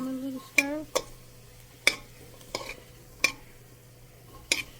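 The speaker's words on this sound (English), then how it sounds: "put them up in there, and give them a little stir" Hamburger soup ingredients being stirred in a pot, a handful of separate metallic clinks and scrapes of a spoon against the pot over a low background hum, close and sparse, with a brief voice at the start.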